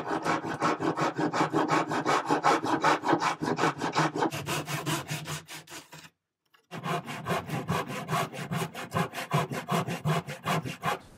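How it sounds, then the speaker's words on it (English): A handsaw cuts wood along 45-degree lines during a rustic wooden chest repair, making steady, rhythmic back-and-forth rasping strokes up close, with a brief pause midway before the sawing resumes. "I'm going to start by cutting the 45 degree angles first. I'll pull in my handsaw"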